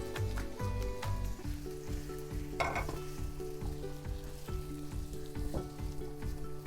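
Carrots and sweet potato for fresh lumpia sauté in a pan with a soft, steady sizzle, while gentle music with a repeating beat plays over it.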